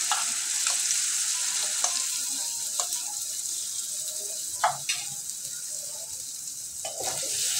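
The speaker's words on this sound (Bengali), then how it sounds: "আমি মাংসটা এভাবে ভেজে নেব।" Marinated meat fries in a little hot white oil in a wok, giving a steady sizzle with a few sharp louder pops and stirring clatters, no talking.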